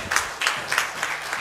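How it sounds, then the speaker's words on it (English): Church congregation claps in praise, a short run of about five evenly spaced, fairly faint hand claps in a steady beat. "Give God a hand clap of praise"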